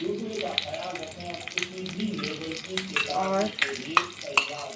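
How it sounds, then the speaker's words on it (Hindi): Mustard seeds fry and sizzle in hot oil for a South Indian masala dosa filling, a steady crackle with sharper pops, while a voice speaks briefly over the cooking. "राई को पकने देंगे।"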